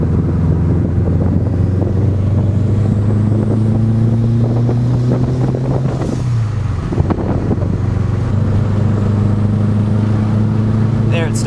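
A 500hp Subaru WRX cruising at highway speed near 60 to 65 mph with a bad wobble, its steady engine drone and road and wind roar filling the cabin continuously, with a dip in pitch midway.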